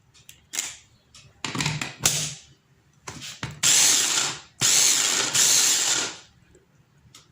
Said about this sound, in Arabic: غادي نطحن الربيع